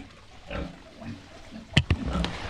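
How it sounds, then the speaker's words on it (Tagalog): Pigs on a small farm grunt and snuffle while eating protein feed, with a few sharp knocks and louder grunts near the end, all close by and without talk. "Ito protein kain natin sa baboy."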